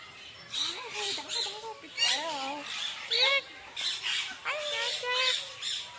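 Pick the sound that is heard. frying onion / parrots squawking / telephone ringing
parrots squawking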